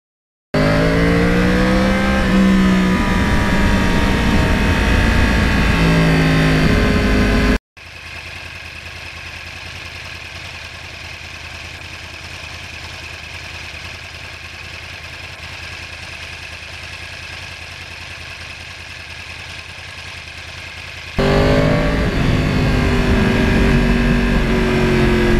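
Custom Yamaha R1 Crossplane 1000 motorcycle, its engine running steady and loud, with a drop to a lower, quieter section in the middle before the louder sound returns at the end.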